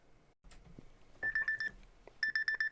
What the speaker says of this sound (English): Oh, that was my alarm.